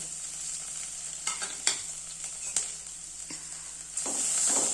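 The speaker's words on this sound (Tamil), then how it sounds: "அதை நம்ம போட்டுக்கிட்டு வதக்கிக்கலாம்" Crushed black pepper, cumin and garlic sauté in hot oil for rasam, a bright continuous sizzle punctuated by several sharp spoon scrapes and clacks against the pan, growing louder at the close.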